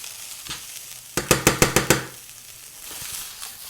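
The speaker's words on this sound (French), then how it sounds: "On va bien le poêler." Vegetables for a vegan crumble with African spices are tossed in a frying pan, a quick run of six sharp clattering stirs against a soft sizzle, then quieter frying.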